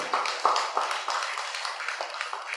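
Loud audience applause at a spiritual talk: dense, steady clapping with no voices, continuing evenly from start to finish.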